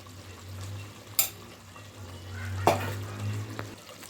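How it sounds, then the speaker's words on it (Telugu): Chili powder and turmeric are stirred into a pan of cooking food, giving a soft, low sizzle with a steady hum behind it and a few sharp scrapes and clinks of a spoon against the pan. "మొత్తం బాగా కలుపుకున్నాము"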